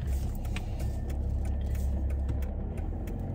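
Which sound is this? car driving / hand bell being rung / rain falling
car driving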